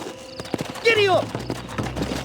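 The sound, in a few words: horse galloping, from the video game Red Dead Redemption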